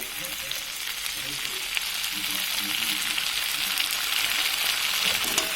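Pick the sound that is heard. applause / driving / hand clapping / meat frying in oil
meat frying in oil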